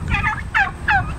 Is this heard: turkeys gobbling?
yes